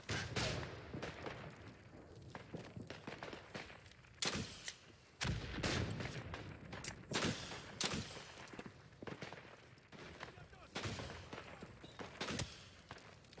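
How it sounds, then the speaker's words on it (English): Artillery strikes in the trench-warfare game Isonzo: a run of heavy, fairly distant booms and thuds arriving at irregular intervals over a low rumbling battlefield bed. "now, fingers crossed, we can call in some artillery strikes"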